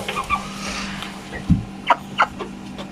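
Broiler chickens about 39 days old in a coop under heat lamps, with a few short clucks and grunting calls over a low steady hum, close by, with no talking.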